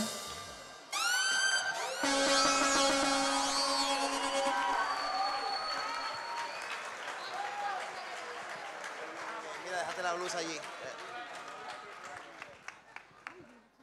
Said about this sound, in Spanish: fuerte aplauso, fuerte aplauso de nuevo para Ceniza